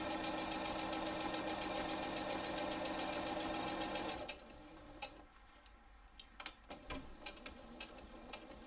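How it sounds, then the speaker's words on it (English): A sewing machine stitches a fabric face mask holder with a steady rapid mechanical whir for about four seconds, then stops to scattered ticks and clicks of the mechanism. "back stitch a couple of times to secure, and then stitch to the end."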